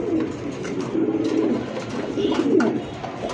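Pigeons coo in a loft of fancy breeds such as Lahori, Bombay and racers, a steady overlapping murmur of low throaty calls close by, with no talk over them.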